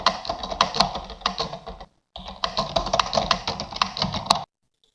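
Rapid typing on a computer keyboard, a dense run of close clicking keystrokes that pauses briefly midway, then resumes and stops abruptly.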